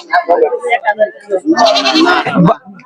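Goats, including two young castrated kids, bleat in quavering cries, close by at a goat market on a rainy day, while people talk over and around them.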